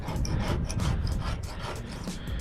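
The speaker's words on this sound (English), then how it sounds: "Scraper really ain't doing too much" A hand scraper rasps over a stadium surface, lifting stringy duct tape residue in quick, repeated rough strokes close up, with no voices.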